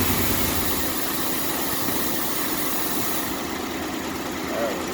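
A 2006 Buick Lacrosse engine idles roughly after its starter was replaced, a steady, uneven low rumble with faint ticking throughout.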